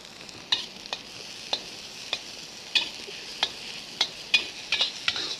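Fresh shiitake mushrooms, celery and shredded carrot are stir-fried in a wok under a soft steady sizzle, with about a dozen sharp spatula scrapes and clanks coming at irregular intervals close by.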